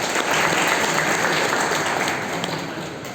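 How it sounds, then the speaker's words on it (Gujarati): Sustained applause from a seated senior citizens' audience at a community gathering, dense steady clapping filling the hall for about three seconds and easing slightly toward the end, with no talking over it. "એકવાર મારા મા બાપને માટે તાળીઓ."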